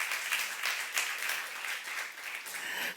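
A youth congregation at a Korean church claps during a sermon, producing fairly quiet, steady applause with slight surges, heard from some distance for the whole span.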